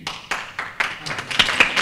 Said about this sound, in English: Now, you're applauding